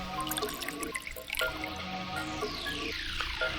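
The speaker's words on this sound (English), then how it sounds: "Now let's pour the saline solution in here." Saline solution pouring into a beaker in the puzzle game Virtue's Last Reward, a light dripping, trickling liquid sound with soft splashes, running steadily and moderately loud with no talking.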